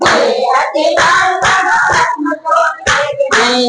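A group claps hands in steady rhythm along to a Gujarati devotional chant, the claps loud and close and mixed with the song throughout.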